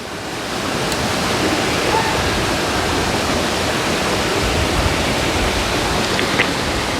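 Plantain fries in coconut oil in a pot, giving a steady, dense, hissing sizzle that runs unbroken from start to end.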